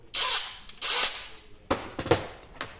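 A Bosch Professional drill in second gear boring with an 8 mm bit, no pilot hole, into an oiled 2 mm metal box: two loud whirring bursts, then a stuttering grind with sharp catches, close up.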